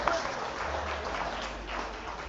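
Audience applause at a plenary session of Pwani Innovation Week 2023, a steady wash of clapping with a low hum underneath, heard from the room at moderate level for a couple of seconds.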